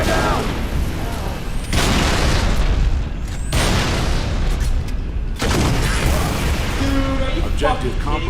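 In the Halo video game, a frag grenade blasts with a loud, booming burst, then further heavy explosions and rumbling combat noise follow in waves over several seconds, with faint whizzing and electronic tones toward the end.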